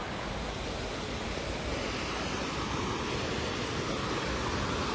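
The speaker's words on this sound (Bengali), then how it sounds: "কোশি নদী, কোশি নদী, ওই কোশি নদীটাই এখান থেকে আসছে" The Kosi river near Kainchi Dham in Nainital rushes past in a constant, loud broadband roar of flowing water, with no voices.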